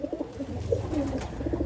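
A pair of Teddy 128 pigeons coo softly in short, repeated low phrases close by, steady and continuous with faint background hum.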